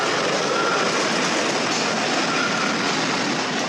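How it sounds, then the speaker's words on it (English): A wooden roller coaster train from the Gravity Group, the Mind Blower at Funspot Kissimmee, thunders along its track with a loud, continuous rattling roar and no voices. "Lots of airtime, compact layout, fantastic wood coaster."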